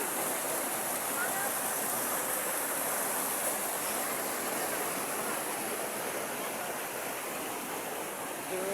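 A waterfall at Sitio Katabadan, Barangay San Roque, San Miguel, pouring as a loud, steady broadband rush of falling water that stays constant throughout, close and unbroken.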